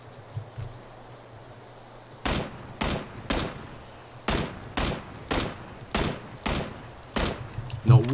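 Single gunshots from the PUBG video game fire one at a time at a steady, slightly uneven pace, about ten sharp cracks spread across the stretch over a low hum, fairly close.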